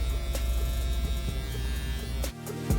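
Electric hair clippers with the lever all the way up cut a temple fade, giving a steady, close, droning buzz with a few faint clicks and a brief dip near the end. No one speaks.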